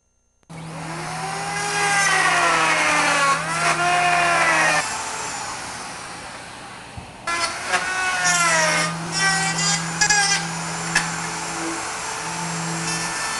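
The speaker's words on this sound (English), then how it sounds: "the body is being set up to do the router jig cutting for the dovetail joint of the body" A router running in a jig cuts the dovetail neck joint into an acoustic guitar body at a factory workshop, a loud steady whine that stops midway, then restarts with rising and falling pitch sweeps as the bit engages.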